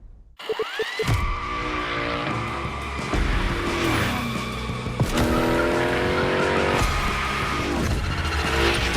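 Tires squeal and scrabble as a car called the Unicorn slides through gymkhana-style drifts in The Crew Motorfest, its engine roaring loudly and continuously beneath the screeching after a brief silent start.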